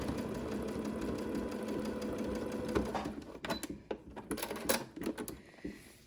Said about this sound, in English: make sure that it doesn't unfold as the sewing machine pushes it through